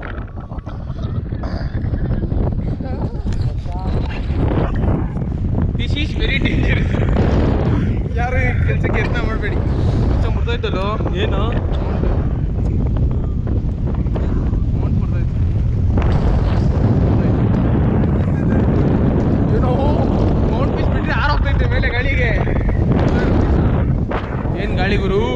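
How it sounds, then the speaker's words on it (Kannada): Heavy wind blasts across a hilltop about 2547 feet high, a loud, continuous roaring rumble buffeting the microphone, with voices talking faintly through it. "ಏನ್ ಗಾಳಿ ಗುರು ಟಾಪ್ ಅಲ್ಲಿ ಇದೀವಿ"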